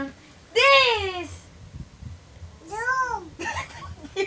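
A cat meows twice, each call long and clear with a rising then falling pitch, separated by a pause, with a child's babbling and soft household noise in between.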